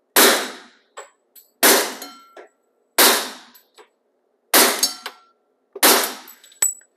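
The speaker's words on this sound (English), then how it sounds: "this Glock 21 that has the 45 caliber suppressor on it" Five sharp, muffled gunshots from a Glock 21 .45 caliber pistol with a suppressor, evenly spaced about a second and a half apart, each followed by a metallic clink and short echo.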